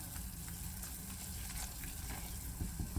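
A light roux of flour sizzling and cooking down in a pan, a steady close frying hiss with occasional stirring scrapes, no talking.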